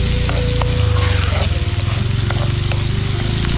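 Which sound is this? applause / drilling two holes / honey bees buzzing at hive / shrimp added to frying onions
shrimp added to frying onions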